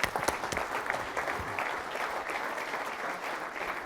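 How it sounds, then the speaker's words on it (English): An audience breaks into applause at a corporate technology talk, with sharp individual claps at the start settling into steady, dense clapping that continues to the end. "Let's give him a round of applause."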